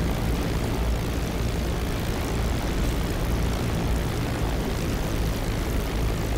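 Steady, loud propeller engine drone of a Spitfire LF Mk. IX taxiing in the DCS flight simulator, a continuous low rumble that holds even throughout with no pauses or voices.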